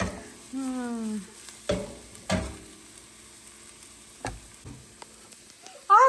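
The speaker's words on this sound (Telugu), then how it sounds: "పచ్చి వాసన పోయేదాకా వేపుకోవాలి" Pav bhaji masala frying in a pan, a soft background sizzle broken by several sharp scraping strokes of a spoon, with a brief clatter near the end.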